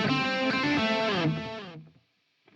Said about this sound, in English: now the delay will be loud when I'm playing and basically go away when I stop